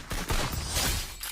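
Rapid gunfire bursts from the battle royale shooter Free Fire crackle loudly in quick succession, a short dense fusillade with no talking over it.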